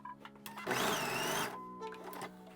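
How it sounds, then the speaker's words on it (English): A sewing machine stitches across a scrap fabric leader to hold the threads. It runs in a single loud, close burst of about a second, with a few faint clicks before and after. "So I'll stitch on a scrap piece of fabric first, and that way it'll hold my threads at the back for me."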